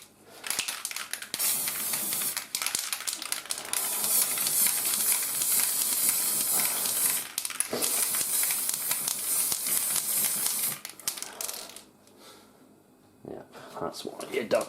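Long bursts of hissing aerosol spray paint, close and loud, respraying a Hotpoint appliance, with short pauses between sprays and some brief speech.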